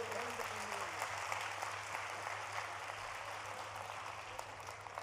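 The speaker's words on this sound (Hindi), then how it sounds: "एक बार जोरदार तालियां इतने अच्छे गीत के लिए।" A faint, distant crowd claps steadily and evenly throughout, applauding a sung Ram song at a poets' gathering.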